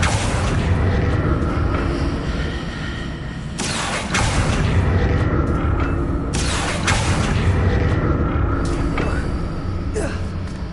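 Confringo blasting spell in Hogwarts Legacy, several booming explosive bursts spaced a few seconds apart over a dense, loud rumbling background, with a voice speaking in between.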